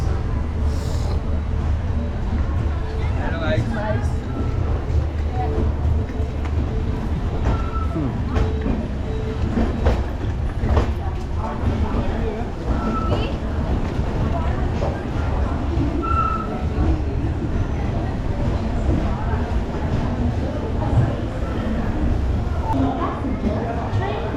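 The Nagpur–Jaipur Express stands at platform seven of an Indian railway station, its steady rumble and hum running throughout beneath station chatter and people talking.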